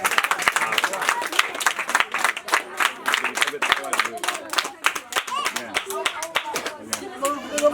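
Sharp, rhythmic clapping from a crowd at a community gathering in Abobo, close and energetic, with singing voices and children mixed in between the claps.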